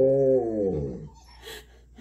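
A malamute lets out a drawn-out, wavering whimper that slides downward and trails off into quieter breathy noises, close by with no human talking over it.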